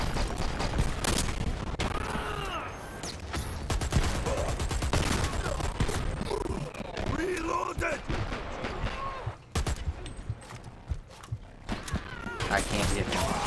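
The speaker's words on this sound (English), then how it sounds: "He had a minigun." A minigun fires in the Dirty Bomb video game, with dense, rapid bursts of gunfire running almost the whole time and voices talking underneath.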